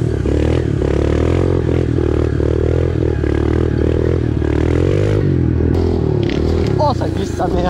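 A motorcycle engine labors and revs as it climbs a steep slope in a wheelie, loud and close, with people talking excitedly over it throughout.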